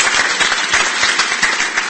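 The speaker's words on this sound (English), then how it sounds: "So if you give a round of applause." Audience applause at a national sport and mental health conference, dense continuous clapping from a crowd, loud and steady throughout.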